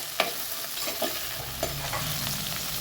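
Okra sautéing in hot oil in a pan with a little salt, a continuous close sizzle broken by several sharp spatula scrapes and clacks against the pan, no voices.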